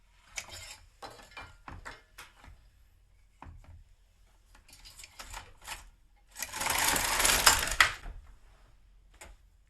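A GK 370 knitting machine carriage pushed across the needle bed to knit one row: scattered mechanical clicks and knocks, then a loud continuous rasping sweep lasting over a second before it falls quiet.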